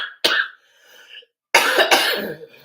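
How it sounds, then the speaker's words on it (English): Two harsh, close coughs, the first a single sharp burst and the second a longer, rougher fit. "I've just got this terrible cough"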